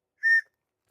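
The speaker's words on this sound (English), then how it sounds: "along with an emergency whistle" An emergency whistle from an earthquake kit gives one short, shrill blast of about a quarter second, close and clear, then silence.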